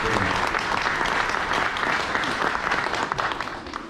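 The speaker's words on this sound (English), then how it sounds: "Big round of applause." An audience at an Alliance for Community Media event in Brooklyn claps in a sustained, dense round of applause that carries on steadily for a few seconds before starting to fade.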